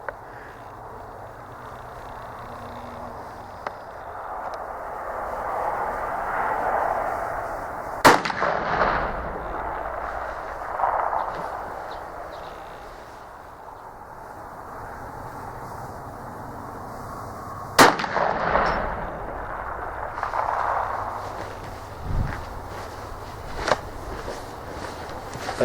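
A T/C Impact muzzleloader rifle fitted with a scope fires two sharp, loud shots about ten seconds apart outdoors, each a sudden crack followed by a brief rumbling echo, with quiet ambient noise and faint shuffling between.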